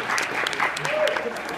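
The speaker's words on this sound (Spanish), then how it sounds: "al cual le damos un gran aplauso" Crowd clapping at an intimate acoustic concert, steady applause under a host's voice, with a brief whoop rising over the crowd.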